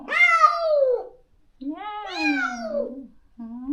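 A cat cries out with long, drawn meows, two full wailing calls followed by the start of a third, close and clear against a quiet background.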